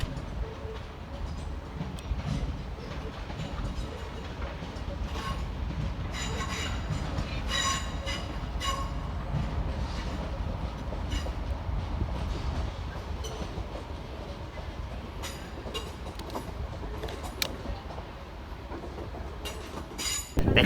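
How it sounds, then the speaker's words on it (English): A Northern Class 323 electric train arrives at Manchester Piccadilly, a steady low rumble of wheels on rails with repeated squeals and clicks from the wheels as it rolls in, continuous and fairly near. "Arriving to terminate with a northern service off of Stoke-on-Trent is"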